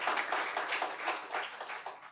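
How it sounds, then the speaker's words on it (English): An audience at a community symposium in Lake Wales claps, a fairly soft, dense round of applause sustained evenly throughout without talk over it. "Give yourselves a round of applause for signing up for just spending your afternoon with us"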